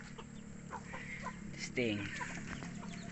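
Native chicken hens clucking in a farmyard, soft intermittent clucks with one louder, nearer squawk midway, under someone talking.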